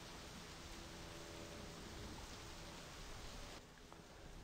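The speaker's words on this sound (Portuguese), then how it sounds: "Eu vou esperar a chuva passar" Rain falls in the driving game My Summer Car, a steady dense wash of hiss that stays even throughout, slightly dropping near the end.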